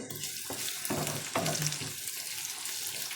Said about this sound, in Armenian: Հիմա սոխարած եմ պատրաստում առանձին